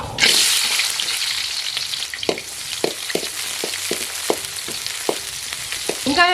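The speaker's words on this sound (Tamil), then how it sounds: "எண்ணெய் நல்லா சூடாயிட்டு சின்ன வெங்காயம் கட் பண்ணி வச்சுருக்குறோம் வெங்காயம் சுட்டுக்கலாம்" Small shallots frying in hot oil, a loud bright sizzle that settles into a steady crackle, with a series of sharp spoon or pan knocks from stirring at regular intervals.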